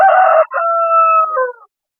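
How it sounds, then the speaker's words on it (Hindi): An Aseel rooster crows once, loud and close: a harsh opening note, then a long drawn-out call that fades away, followed by silence. "प्योर देसी मुर्गे हैं, असील मुर्गे हैं पूरे"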